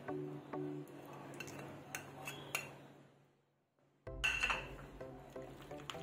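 A spoon stirs a chicken tikka marinade with oil and red food colouring in a bowl, giving faint scraping clinks and wet mixing sounds that stop briefly and then resume louder.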